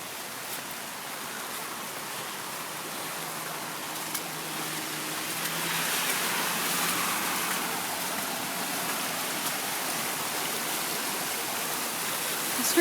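Heavy rain pours down onto a street and runs off like a waterfall near a bus stop, making a loud, continuous broadband roar with no voices.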